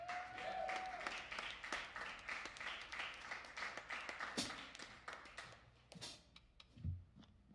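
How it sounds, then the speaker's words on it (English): Audience applause and scattered clapping fill the room after a live jazz trio's set, steady and dense for several seconds before thinning out, with a few sharper claps near the end. "let's keep the applause going"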